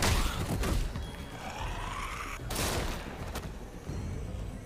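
Shotgun fire rings out in The Walking Dead: A New Frontier video game: a few sharp, loud blasts spaced a second or two apart over a rumbling game soundscape.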